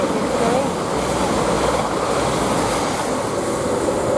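A train passing through Luton Airport Parkway station on the St Pancras to Nottingham line, a loud steady rumble and wash of noise with heavy wind buffeting on the microphone.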